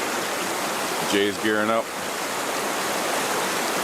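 The Partridge River flows with a steady, broad rushing wash that fills the whole clip, while someone speaks briefly over it near the middle.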